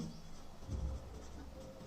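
A formula is written out by hand during an operating systems scheduling lesson, a faint, quiet scratch of strokes with a slightly louder patch midway and no speech.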